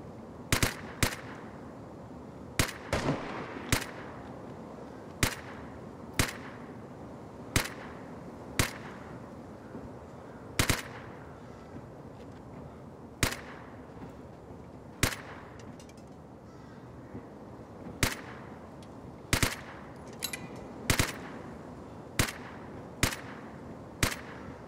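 Gunfire in the Vigor video game, sharp isolated shots cracking out singly and in quick pairs at irregular intervals over a quiet ambient background, with no talking.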